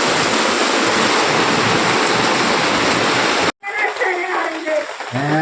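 Heavy rain pours down at night outside a house, a loud, dense, steady hiss for several seconds before an abrupt cut to a quieter stretch of softer rain with a faint voice near the end.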